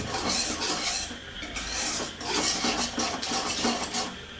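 Bombay halwa stirred with ghee in a pan, with repeated close scraping and rubbing of a spoon against the metal in an uneven rhythm and no talk.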